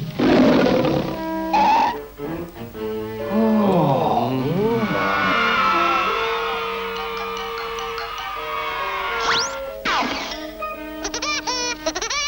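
Cartoon lions let out a run of loud, layered roars and growls that rise and fall, mixed with a cartoon soundtrack and sliding comic sound effects.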